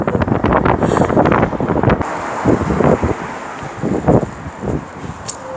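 Strong wind blows across a beach by the sea, loud buffeting gusts rumbling against the microphone with a hiss of blowing sand, easing slightly after the first couple of seconds.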